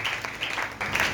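Church congregation applauding during a French-language worship service, a steady wash of clapping in bursts that swell and ease, fairly close and filling the room.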